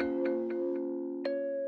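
A short two-bar main melody from an FL Studio sample before time stretching, sustained tonal notes with a few soft plucked accents, quiet and brief.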